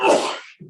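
A single sharp sneeze during a utilities commission meeting, a loud broadband burst lasting about half a second, followed by a brief low murmur.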